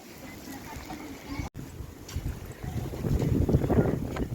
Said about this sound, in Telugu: గాలి చాలా లేచింది రా